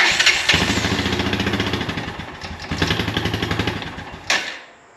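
A small ATV engine with a choke problem cranks and catches, chugging in rapid uneven pulses for a few seconds, briefly revs, then cuts out abruptly into silence.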